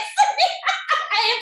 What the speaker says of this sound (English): It was your dog.